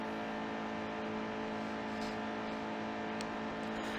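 A NASCAR Camping World Truck Series truck racing at Las Vegas, its engine holding a steady high-pitched drone at speed with a constant tonal whine and no breaks, loud and close.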